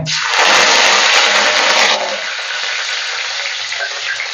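Loud, crackling sizzle as curry leaves hit hot oil in a clay pot, an intense burst for about two seconds that settles into steady frying.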